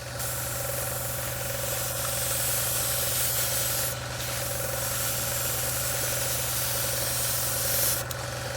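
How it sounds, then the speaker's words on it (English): A steady, continuous hiss of an airbrush spraying test paint lines alongside a constant low compressor hum, with brief pauses in the spray. "So to show that things are all good, we will spray some lines like we did last time."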